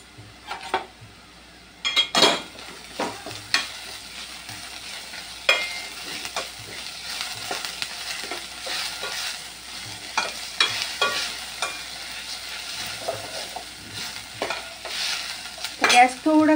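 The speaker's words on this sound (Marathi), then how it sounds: "आता टाकूया अद्रक लसूण" Ginger and garlic are stir-fried with browned onion in a pan for chana masala gravy, giving a continuous soft sizzle broken by repeated scraping and clinking of a spoon against the pan, fairly close and with no talking.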